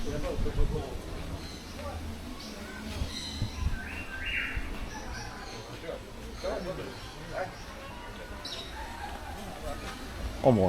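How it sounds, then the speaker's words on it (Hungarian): Birds chirping and calling at Phuket Bird Park in Thailand, scattered short tweets and calls at moderate distance, mixed with people talking nearby. "Itt vannak a Reni haverjai, a hangokból megítélve."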